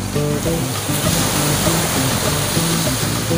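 Surf at Bagasbas Beach in Daet, Camarines Norte, with many people swimming, a steady loud wash of breaking waves heard close up with no one speaking.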